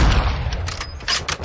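Rapid gunfire in a video game, a sniper rifle among it: several sharp, booming shots crack in quick succession over a low rumble, loud and close.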